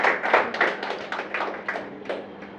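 Applause from a live audience at a Hindi poetry recital, a steady patter of many hands clapping fairly close and loud, fading a little toward the end.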